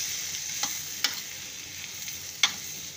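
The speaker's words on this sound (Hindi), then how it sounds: "आलू के स्लाइसेस डालने के बाद हम इसमें अच्छे से मिला देंगे।" Potato slices being stirred into frying masala for aloo puri, with a few distinct clinks of a spoon against the pan over a steady low sizzle.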